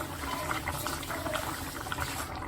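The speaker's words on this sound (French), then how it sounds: "on va laisser le pondu, il va bien cuire" Pondu saka saka, Congolese cassava leaves, simmering in a covered pot on a stove, a steady soft bubbling and hiss that runs continuously and fairly close.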